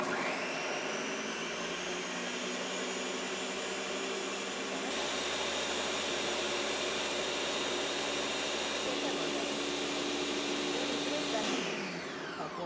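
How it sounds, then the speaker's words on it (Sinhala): A kitchen blender whirs continuously on homemade green juice made from garden greens, a loud steady motor whine that shifts pitch partway through and then winds down near the end, close up with no talk. "අපි දැන් බලමු බ්ලෙන්ඩ් කරගෙන."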